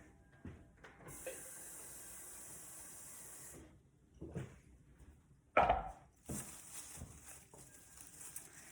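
Water poured into a flower arrangement's vessel, a close hissing trickle running for a few seconds, then stopping, followed by light handling clunks and another brief pour, all fairly quiet in an indoor room.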